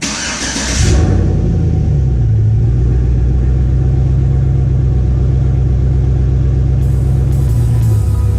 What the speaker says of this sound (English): We're gonna do a cold start.